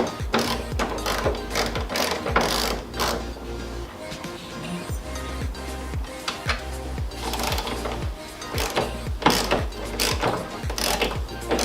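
A ratchet wrench works loose 10mm nuts on a hood bracket of a Ford Mustang GT, giving rapid repeated clicking strokes in close, uneven bursts with brief pauses between.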